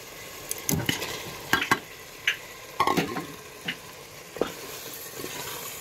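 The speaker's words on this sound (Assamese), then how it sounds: "এতিয়া মই দাইলখিনি দি ভাজি ল'ম" Dal crackles and sizzles in hot mutton oil while a spatula scrapes and taps the pan in irregular strokes; no speech.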